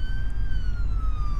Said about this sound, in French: Je vais juste arrêter les sirènes.